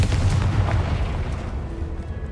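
A Confringo fire spell explodes in Hogwarts Legacy, a dense low boom with a rumbling blast that fades over about two seconds.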